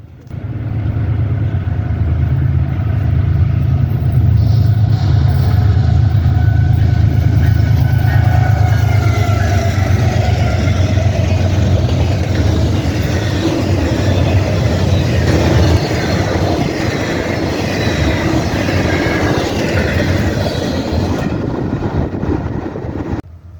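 An eastbound CSX intermodal freight train rumbles past, a loud sustained low roar with rolling wheel and car noise that holds steady for most of the time before easing off near the end.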